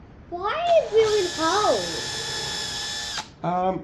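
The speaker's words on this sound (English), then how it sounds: "I'm only drilling the thinnest little hole" A power drill boring thin pilot holes in a wooden end-grain cutting board whirs steadily at a high pitch for a couple of seconds, close by, between bursts of a child's and an adult's talk.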